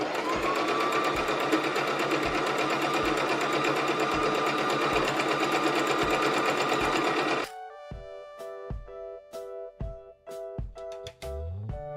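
A sewing machine double-stitches silver sequin curtain fabric, running in a fast steady whirring burst for several seconds, then slowing into separate close mechanical clunks and stitches, with no talk.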